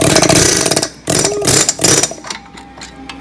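Loud, rapid pneumatic air-hammer hammering in harsh bursts while knocking out a car axle during a front differential replacement, a brief pause after the first second, then more hammering that tapers off.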